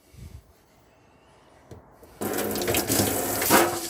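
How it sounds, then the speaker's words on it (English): A tap opens with a click and water rushes steadily from it in the on-board hot water system of a 2023 Coachman Arcadia Xtra 630 caravan. The gush is loud, close and a little sputtery as air clears from the lines. "you can come over to all the taps on board the caravan, open them all up on the hot side of the system."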